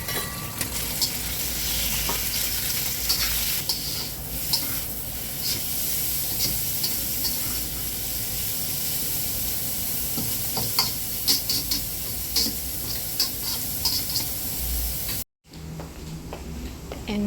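Chicken liver sizzles loudly and steadily in a hot frying pan, with a constant crackling hiss and occasional clicks of stirring, close up and without talk.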